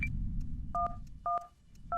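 Phone keypad tones sound as 112, the emergency number, is dialed in a car-accident video game: three short, evenly spaced dual-tone beeps over a low engine-like rumble.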